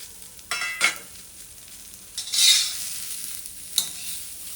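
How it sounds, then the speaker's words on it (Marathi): Onion roasting in a pan for a coconut masala paste, a soft sizzle with several scraping stirs from a spatula against the pan, close and without voices. "आता आपल्याला कांदा भाजून घ्यायचा आहे"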